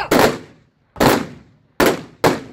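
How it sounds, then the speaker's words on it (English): Four sharp gunshot reports of a ceremonial salute at a funeral in Windhoek, fired in an uneven sequence, each loud blast decaying with echo into short silences; no talking. "He was honored with a 6-gun salute."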